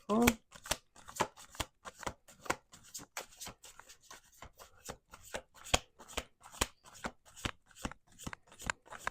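A tarot deck is shuffled close up in a steady run of crisp, rhythmic card flicks and riffles that fill the whole stretch, loud and continuous with no voice over them.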